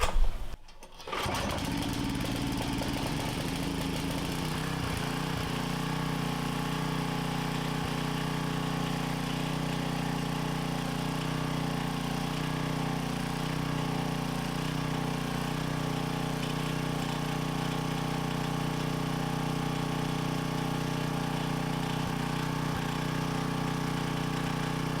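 A small engine that sat unused for over ten years runs steadily at high, constant speed with its governor stuck wide open, a loud continuous drone after a brief start at the beginning.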